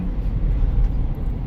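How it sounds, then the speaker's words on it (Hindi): A Mahindra Scorpio N Z8 diesel engine runs with a steady, loud low rumble, heard from inside the moving SUV, with no talking over it. "ये डीजल के इंजन की आवाज़ शानदार है"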